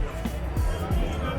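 A dense crowd murmurs at Bankey Bihari temple in Vrindavan, a close, continuous babble of many voices in a short burst.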